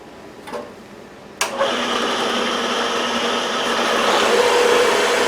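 Bandsaw in a metalworking shop cutting off a piece of metal stock, a steady buzzing whir that starts abruptly after a couple of faint knocks and holds loud and continuous, with no talking.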